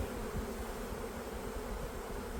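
Honeybees hum in a dense, steady drone from an opened hive during a spring colony split, close and continuous with no other sounds.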